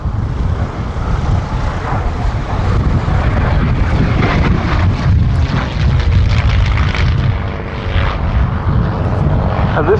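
A North American P-51D Mustang flies at an air show, its piston engine and propeller giving a loud, continuous rumbling roar that holds steady for the whole stretch.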